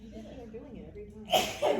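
After a voice speaks, a sudden loud sneeze bursts out, sharp and breathy, followed by a brief second burst.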